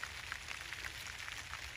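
Light rain falls over a garden, a faint, even patter of scattered drops with soft crackles spread across the whole stretch and no voices.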